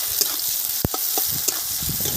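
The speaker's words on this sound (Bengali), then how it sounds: "পেঁয়াজটা এদিকে ভাজা হোক" Lightly salted onions frying in oil with nigella seeds and dried chillies, a continuous close sizzle broken by a few sharp scrapes and clacks of a spatula stirring the pan, with no talking.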